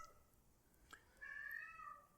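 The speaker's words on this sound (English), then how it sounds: "That's a cat." A cat in the game Rabbids Go Home gives a faint, drawn-out meow after a brief earlier chirp, thin and tonal over a quiet background with no talking.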